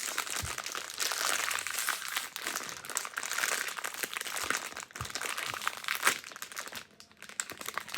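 A crinkly plastic package being opened by hand, close and fairly quiet, with irregular crackling, crunching and tearing bursts that come and go in uneven handfuls.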